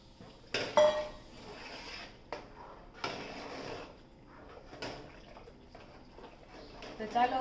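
Custard is stirred in a cooking pot, a spoon scraping and clinking against the metal in soft, irregular knocks at close range, while someone talks quietly over the kitchen sounds.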